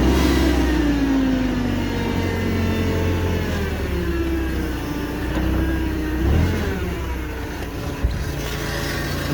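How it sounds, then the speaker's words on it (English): A Cat GP25K forklift with a three-stage mast has its engine running steadily and fairly loud, with a low rumble and a rising-then-falling whine, heard alone without talk. "Motor sounds all right."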